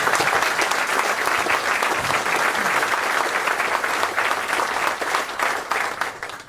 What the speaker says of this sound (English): So a big round of applause for everyone.